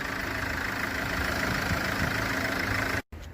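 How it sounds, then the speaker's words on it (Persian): A diesel car engine idles steadily at close range at a car market with a low, even rumble, then cuts off abruptly near the end. "این حالت موتور ماشین."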